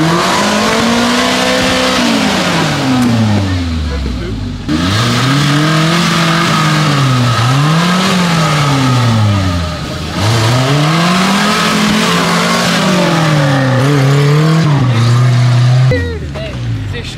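Off-road 4x4 vehicles at an extreme mud trial in Sillingy rev hard and loud, engines rising and falling in repeated swells close by, with crowd voices faintly underneath.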